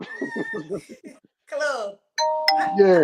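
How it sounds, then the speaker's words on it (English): A doorbell rings indoors, a bright two-tone chime with sustained ringing tones, following and briefly overlapping casual conversation between people. "Was that the doorbell that just rang?"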